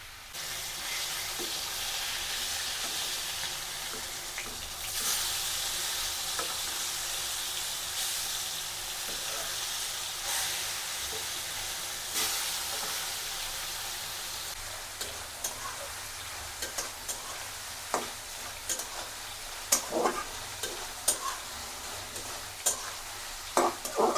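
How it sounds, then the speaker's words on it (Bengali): Mixed vegetables with green chilies stir-fried together in a pan with ground cumin: a steady, close sizzle with spatula scrapes, and sharper clicks and taps growing more frequent toward the end. "তো এখন এই সবজিগুলো একত্রে করে কষিয়ে নিতে হবে"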